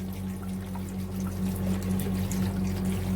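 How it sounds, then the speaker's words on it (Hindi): Water pours steadily into a pot of chicken pulao with a soft, continuous splashing rush over a low electrical hum, with no talking. "पानी डालेंगे"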